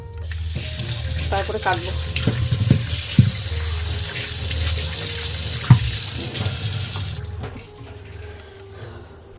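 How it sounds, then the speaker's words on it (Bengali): Tap water runs steadily into a sink while meat and potatoes are washed, with knocks and clatters from handling. Someone speaks briefly over the flow. "মাংসটাকে ধুয়ে রাখছি, আলুগুলোকে ধুয়ে নেবো"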